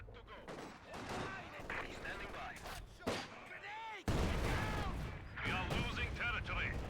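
Machine gun fire rattles through a Company of Heroes 2 battle, with repeated bursts and explosive booms layered under a commentator's voice, ending in a loud dense barrage.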